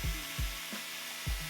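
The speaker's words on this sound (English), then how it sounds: "Now I pop the axles into my drill just to clean them up a little." A power drill spinning diecast axles from a Matchbox No. 56B Fiat 1500 model car to clean them, giving short whirring bursts with rubbing friction, close and fairly loud.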